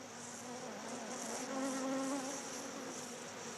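Bees buzzing steadily in a close, continuous drone with no voices, in countryside affected by neonicotinoid insecticides.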